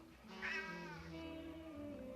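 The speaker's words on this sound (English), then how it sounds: "Then we hear a different audio file of a deep cat meow." A deep, drawn-out cat meow from the video game Bully, one low sustained cry that rises briefly and then trails off, sounding close and alone, with no talking over it.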